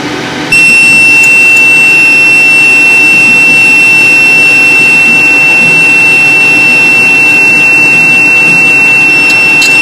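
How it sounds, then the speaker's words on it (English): A steady high-pitched electronic tone from a Thunder Laser Aurora 8 100W MOPA laser machine drones on without a break over a loud machine hum, with a faint stutter of beeps partway through. "that annoying beep"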